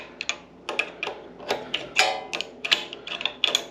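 Metal clicks and ratcheting from a 10mm wrench loosening the bolts on a four-jaw chuck for a 7x12 mini lathe, a quick irregular series of close, sharp ticks heard alone.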